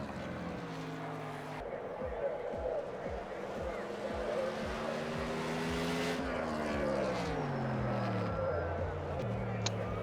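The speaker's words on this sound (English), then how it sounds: "Bruno Champagne, number 30 car, making his qualification attempt." A race car engine drones steadily on the Road America circuit, with rising and falling revs and gear changes over ten seconds, while a commentator talks throughout.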